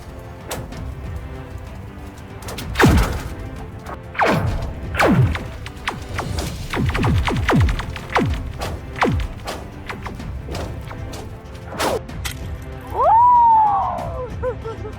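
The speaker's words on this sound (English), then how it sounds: "Space and sound of ice cracking on Lake Baikal." Ice cracking on frozen Lake Baikal sends sharp pings and zinging twangs that sweep downward, spaced irregularly over the silence of the frozen lake, with one long descending whistle near the end.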